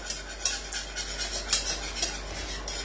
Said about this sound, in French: pendant quelques minutes, il va falloir remuer, tout simplement